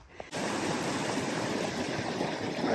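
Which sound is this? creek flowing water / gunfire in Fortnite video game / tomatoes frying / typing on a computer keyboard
creek flowing water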